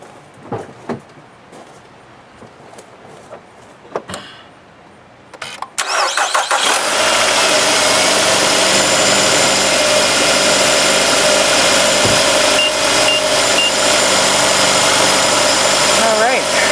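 A 2011 Nissan Altima 2.5 SL engine cranks and fires after a few quiet clicks and shuffles, then settles into a loud, steady, smooth idle held close by for the remaining ten seconds.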